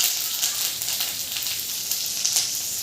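Curry leaves crackle and sizzle in hot oil in a pan with dried Kashmiri red chilli, a steady close hiss with small pops throughout.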